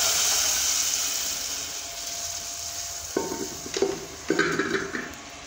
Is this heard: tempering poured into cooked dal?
yes